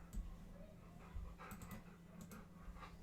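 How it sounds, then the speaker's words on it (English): A new dog pants rapidly and lets out soft whimpers indoors, close and fairly quiet, with a low steady hum in the background and no talking. "I got a new dog, guys."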